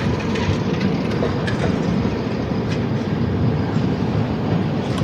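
Secunderabad AC Superfast Express rolling along the tracks near Guntur Junction, a loud steady rumble of wheels and carriages with faint clickety-clack, heard close and continuous.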